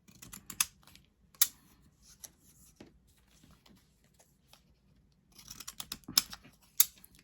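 Scissors snip through scalloped paper stamps in quick, crisp bursts of sharp clicks, pausing in near silence midway before a denser run of cuts resumes close by.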